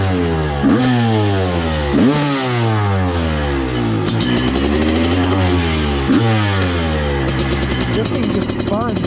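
A Honda CR500 two-stroke dirt bike engine revs hard and close, with four sharp throttle blips climbing and falling over a loud idle, then rapid crackling as it winds down.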